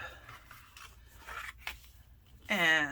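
Card paper is folded and burnished with a bone folder for a square stepper card, making soft, close rubbing and crinkling sounds that end in a brighter, louder scraping stroke.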